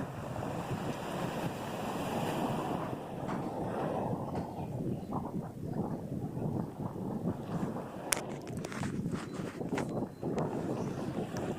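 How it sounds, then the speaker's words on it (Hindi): Sea waves surge against the shore at Clifton beach in Karachi, a steady, broad roar of surf and wind that continues without a break. "ये देखें जी समुंदर माशाल्लाह अपने आबोताब के साथ बिफर रहा है।"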